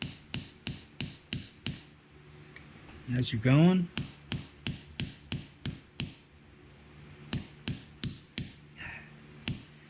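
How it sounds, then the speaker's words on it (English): Pillow ball bearing for an Honda Accord being hammered into its casing: a steady series of sharp metallic hammer strikes in even rhythm, close and clear, with a brief pause midway where someone speaks. "you just hammer it in"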